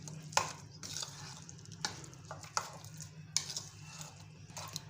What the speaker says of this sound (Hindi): इसको अच्छे तरीके से मिक्स करना है ताकि ये यकजा हो जाए।